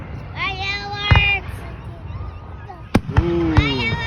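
Fireworks bursting during a family night out, with a couple of sharp booms and crackling pops standing out over ongoing voices and background chatter.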